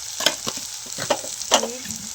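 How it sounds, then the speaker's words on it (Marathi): Onion fries with salt in a pan, short bursts of close sizzling and stirring scrapes in a quick irregular rhythm with no talk. "कांदा असा लालसर भाजून घ्या आता. मीठ टाक म्हणजे कांदा भाजून घे चांगला."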